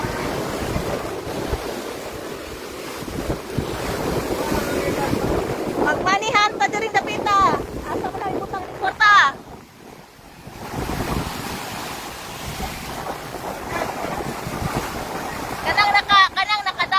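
Sea surf washing up to shoreline houses on the coast of Hilongos, Leyte, a steady roar of waves and wind buffeting the microphone, with people talking throughout over the water.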